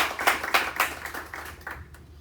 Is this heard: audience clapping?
yes